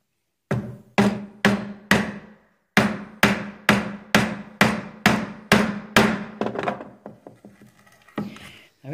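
Mallet blows on a mortise chisel held upright, chopping a mortice in wood: about a dozen sharp, loud, evenly spaced strikes, close by, then a run of quicker, lighter taps as the cut eases off.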